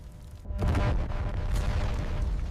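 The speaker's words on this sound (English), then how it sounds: "A violent explosion ripped the hull apart, with flames bursting from the turret ring." A heavy Sherman tank hull explosion booms after a brief moment, then rolls on as a dense, low rumbling roar that keeps going.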